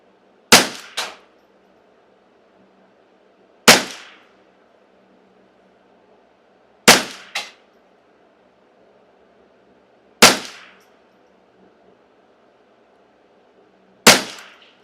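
Shots from a customized Ruger Custom Shop 10/22 rifle, five sharp, loud reports about three seconds apart, each with a short echo tail, in near silence between.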